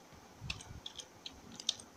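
Light computer keyboard keystrokes on a Windows computer at a command prompt: a short, irregular run of soft clicky taps over a low background hum, close and fairly faint.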